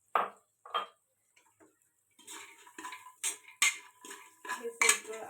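Rice mixture is stirred in a metal pot: a few isolated spoon knocks, then a run of quick, uneven scraping and clinking strokes against the pot, close and fairly clear.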